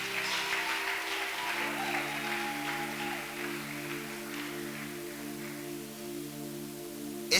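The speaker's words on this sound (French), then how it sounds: "Est-ce que tu peux acclamer pour ta présence ce matin?" A church congregation at a morning service claps and cheers continuously for several seconds, full and sustained, with a musical drone underneath.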